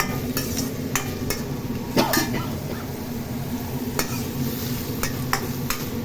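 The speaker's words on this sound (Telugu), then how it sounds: "ఇలా వేయించుకుంటానండి." Chopped organic vegetables frying in a pan for curry, with a steady sizzle throughout and repeated sharp scrapes and clinks of a spoon stirring against the pan.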